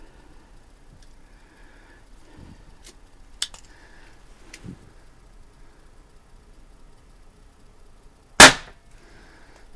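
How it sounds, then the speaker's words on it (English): A Diana Chaser .22 caliber CO2 pistol fires a single sharp, loud shot near the end, after a quiet stretch with a few faint clicks and small handling noises. "it'll go off a little earlier than I anticipate based on shooting the other pistols"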